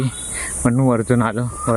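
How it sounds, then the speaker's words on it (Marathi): A high, steady insect chirring drones in the background while someone talks close by over it. "फक्त तो किड्यांचा आवाज आहे"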